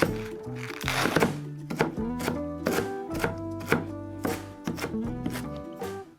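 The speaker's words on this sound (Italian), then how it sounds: "Anche questo lo andiamo a tritare." A knife chops cabbage on a board in quick, steady strokes for Chinese dumpling filling, each cut a crisp thud, close and fairly loud.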